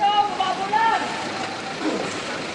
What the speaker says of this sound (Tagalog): Tuloy tanging malalaking sasakyan lang ang nakadaan.